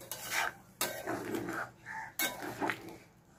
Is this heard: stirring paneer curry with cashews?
yes